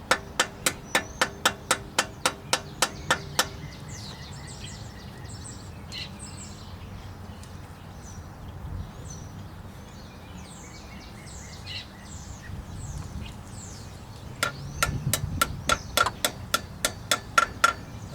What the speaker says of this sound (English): Using an aluminum hammer.